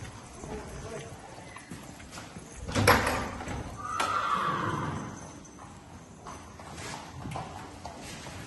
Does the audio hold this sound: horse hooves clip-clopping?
yes